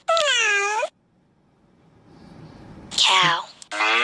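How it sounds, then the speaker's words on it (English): A cat meows once, loud and close, a drawn-out harmonic cry standing alone between spoken words before and after. "Cat."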